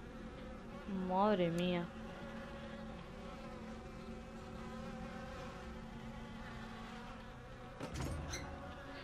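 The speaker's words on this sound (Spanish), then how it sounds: "Mierda, moscas." Flies buzzing in the horror video game Obscuritas, a persistent droning hum throughout with a louder, wavering close pass early on and another near the end; a man briefly mutters over it.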